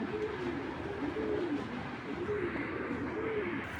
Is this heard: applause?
no